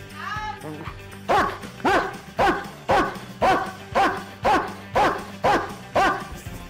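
A well-bred dog barks in a steady rhythmic series of about nine loud, close barks with a yipping edge, each roughly half a second apart, after a brief whine at the start.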